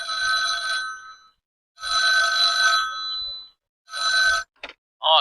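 An old-style telephone rings after a call is dialled to a jail office, giving three loud, clear electronic ring bursts with silent gaps between them, followed by a brief click and a voice at the end.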